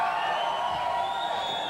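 A huge crowd cheering at a live professional wrestling show in Gravelinia, a steady, dense roar of many voices sustained throughout at even loudness.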